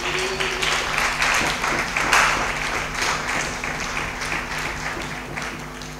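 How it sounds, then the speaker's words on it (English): An audience claps for a singer as he arrives, producing steady, moderately loud applause throughout with a faint murmur of background voices. "May we clap hands for him as he's coming"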